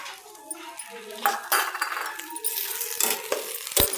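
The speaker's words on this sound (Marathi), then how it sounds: "बघा हे मूग डाळ टाकते मी आता" Moong dal being poured into a pot of ghee for khichdi, a run of light rattling, clinking grains and utensil knocks at close range, with scattered sharper clinks toward the end.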